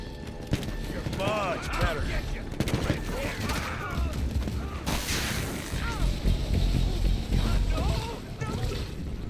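Bursts of gunfire in the video game Evil West crackle amid chaotic action sounds, with voices talking and shouting over the shots.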